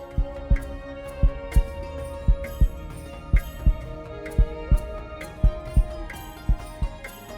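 Steady heartbeat thumping in a regular double-beat rhythm, loud and close, with a soft musical drone sustained underneath and no voices.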